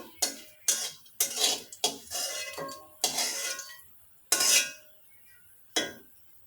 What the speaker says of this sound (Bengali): আমার শুকনো মরিচগুলো একটা বাটিতে নামিয়ে নিব